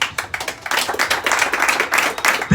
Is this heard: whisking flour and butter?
no